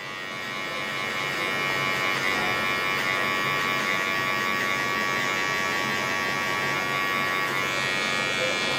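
Electric hair clippers fitted with a number 1 guard cut hair during a low taper haircut, a close, continuous steady buzz with a faint voice underneath.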